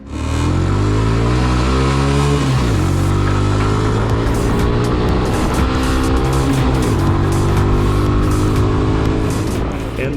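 A cheap super sport motorcycle bought at Walmart accelerates hard and loud, its engine note climbing through the gears in repeated rising sweeps with no voices.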